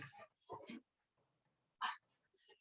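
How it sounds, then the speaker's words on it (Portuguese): A pet dog barks and whimpers in short bursts in the background of a home during an online talk, a few yaps scattered over about three seconds at moderate distance. "Só um pouquinho que meu cachorro resolveu fazer barulho."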